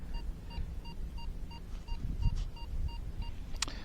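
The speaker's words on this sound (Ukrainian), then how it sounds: "Ось, друзі, впіймав чіткий мідний сигнал." A Rutus Versa metal detector sounding on a copper target during a search by the Dnipro river gives a steady run of short, evenly spaced electronic beeps, faint against a quiet outdoor background.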